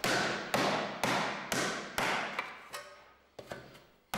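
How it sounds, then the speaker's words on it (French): Coppersmith beating a brass sheet with a hammer in metalworking, with about nine sharp metallic strikes landing in a steady rhythm roughly every half second, each ringing briefly before the next, close and loud with no voices. "le dinandier la bat au marteau selon 3 opérations"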